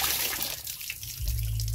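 Water poured over a bather, a trickling, splashing flow that thins briefly and then surges into a fuller gush, close by with no talk.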